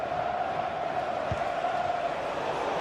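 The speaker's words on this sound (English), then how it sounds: "Well, just listen to this crowd" Broad, steady murmur and roar of a football stadium crowd during a match, a loud sustained wash with one brief low thump partway through, no distinct voices standing out.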